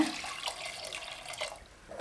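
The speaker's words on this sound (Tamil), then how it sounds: "இது கூட தேவையான அளவுக்கு தண்ணி சேர்த்துக்கலாங்க" Water runs steadily and splashes into a pressure cooker holding mango and washed toor dal, close by and alone for about two seconds.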